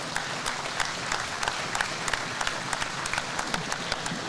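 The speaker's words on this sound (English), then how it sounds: "Let's give them a round of applause again." Scattered applause from an audience at an awards event honoring hardworking winners, thin and fairly quiet, with individual claps standing out in a steady patter throughout.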